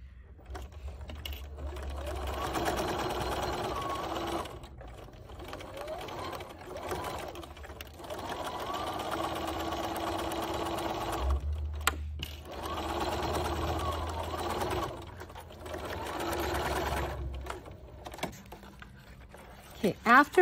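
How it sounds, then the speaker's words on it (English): Sewing machine stitching a fabric face mask, running in long steady whirring bursts separated by short pauses, with a person talking throughout. "You need to sew them away from the buttonhole."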